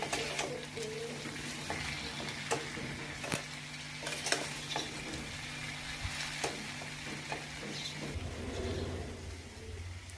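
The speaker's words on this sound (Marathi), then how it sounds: "आणि आता ही भाजी व्यवस्थित परतून घ्यायची आहे आणि झाकण ठेवून शिजवून घ्यायची आहे" Potato bhaji for Navratri being sautéed and stirred in a kadhai, a steady close sizzle with scattered sharp scrapes and clinks of the spoon against the pan, running alone throughout.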